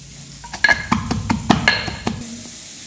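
Green chilies are ground with garlic, cumin, salt and mustard seeds in rhythmic, repeated knocking strokes about every quarter second, close and fairly loud, with no voices.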